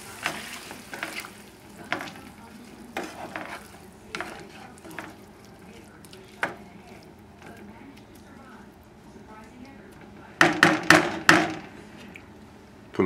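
A boneless veal chop with prosciutto ham and tomato simmers in Cabernet Sauvignon, giving a soft steady sizzle under a speaking voice, with sharp clinks of a utensil against the pan near the end.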